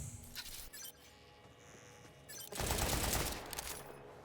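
A Jakobs pistol firing in Borderlands 4, a rapid string of close, loud shots emptying the magazine in the second half, with a few scattered earlier pops and faint clinks.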